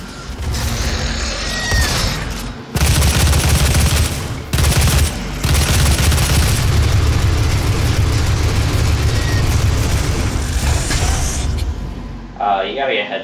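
Weapons fire in the video game Doom, a dense, loud, continuous roar of rapid shots and explosions lasting several seconds with only brief pauses, while a player talks over the action.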